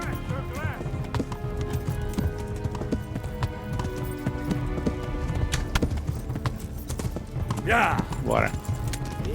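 Horse hooves clip-clopping at a steady trot in the medieval game Kingdom Come Deliverance, continuous and fairly close, with someone talking over it and a horse whinnying briefly near the end.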